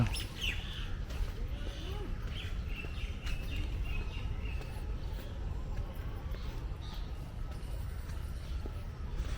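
Sparrows chirp in scattered short calls against steady outdoor background noise, moderately distant and fairly faint, at Maharaja Ranjit Singh's Summer Palace in Amritsar.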